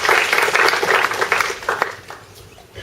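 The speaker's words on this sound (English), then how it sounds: "Can we have a round of applause for both those" An audience at a Birmingham interfaith event claps together: close, dense handclaps that thin out and fade over a few seconds.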